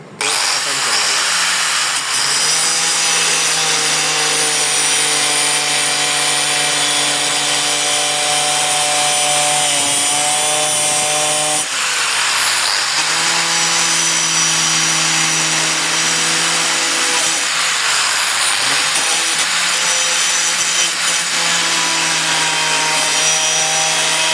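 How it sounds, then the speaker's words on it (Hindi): An angle grinder grinds off rusted rear bumper fasteners on a Toyota Crown, making a loud, continuous high whine that dips briefly in pitch three times as the disc bites under load. "तो मैं इनको अब घिसा के ना ग्राइंडर से"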